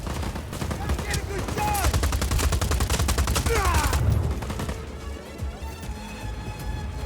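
Machine gun fire in the video game Just Cause 4: a loud rapid burst of automatic shots with crashing impacts, running for about four seconds, then cutting off into quieter game ambience.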